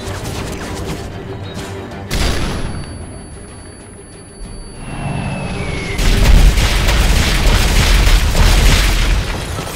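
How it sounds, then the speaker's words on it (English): Flashbang grenades go off in Call of Duty: Modern Warfare 3, a heavy boom followed by a ringing tone, then another loud burst with crashing debris and rumbling chaos. "Throw flashbangs at the juggernaut and the other guy until the air support lands."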